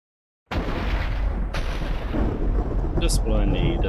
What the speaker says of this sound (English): Just what I need, a thunderstorm.